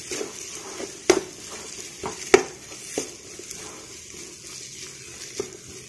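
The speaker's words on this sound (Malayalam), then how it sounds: "നന്നായി ഇളക്കി നല്ലപോലെ തവി കൊണ്ട് പൊടിച്ച് കൊടുക്കാം നമുക്ക്" A ladle stirs and mashes chicken into masala in a pan for Kozhi Ada, producing quiet scraping with a few sharp metal knocks against a soft sizzle.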